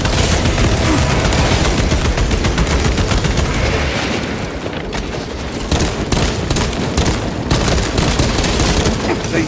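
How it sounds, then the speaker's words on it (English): A frag grenade blast and sustained gunfire in the Tyranid swamp of Warhammer 40K Space Marine 2 make a loud, dense roar of rapid shots and booms with no pause, with a brief dip midway. "Frag grenade out!"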